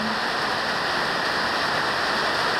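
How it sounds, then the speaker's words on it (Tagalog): Rain falls steadily right after an earthquake, a dense, loud, even hiss of drops throughout with no talk. "ulan na naman"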